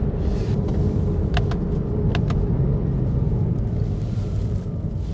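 A Porsche 987.2 with a PDK gearbox drones along with a low, steady engine rumble while a paddle downshift brings a couple of brief clicks and a slight engine change; no one speaks.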